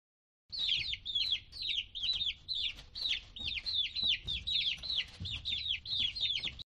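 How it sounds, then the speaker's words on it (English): A chick peeps continuously in rapid, high chirping calls that come in close, loud bursts with brief pauses, heard alone with no talk. "Chick."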